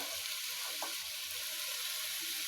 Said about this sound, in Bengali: আর এখন এতে রসুন দিয়ে দেব।